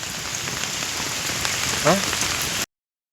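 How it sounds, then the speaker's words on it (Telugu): Heavy rain pours steadily over a village during flooding, a dense, even hiss of drops on surfaces that holds without pause before cutting off abruptly. "భారీ ఎత్తున వర్షం అయితే పడుతుంది"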